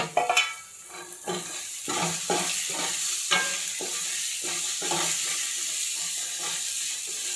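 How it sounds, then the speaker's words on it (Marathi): Sliced capsicum, cabbage and carrot stir-fried in a hot pan for chowmein, a constant bright sizzle with repeated rhythmic scraping strokes of a spatula tossing the vegetables, close and loud. "परतून घ्यायचं आहे व्यवस्थित."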